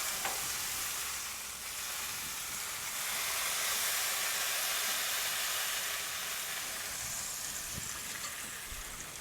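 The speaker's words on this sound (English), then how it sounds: "Let them sear for a bit." Kobe beef New York steaks searing on a Blackstone griddle, an intense steady hiss and sizzle up close, continuous with faint ticks and no voices.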